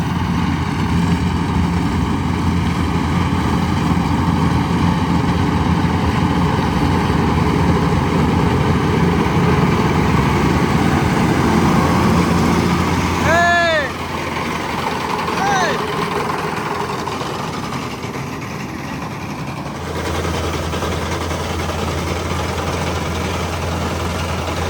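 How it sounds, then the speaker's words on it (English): An old tractor engine on a hay field runs steadily with a low, heavy drone, then its tone drops as it pulls down under load, while a voice talks over it. "Did I hear that old tractor pull down when he set it in there?"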